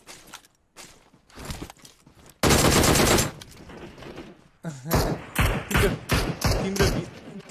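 VSS rifle fire in a battle royale video game: a loud, rapid burst of shots, then quieter scattered bangs, thuds and footsteps close by.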